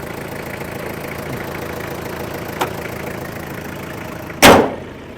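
A Toyota Hilux Sport Rider 3.0 diesel with manual gearbox and 4WD idles in a steady, even rumble, and a sharp loud bang cuts in near the end.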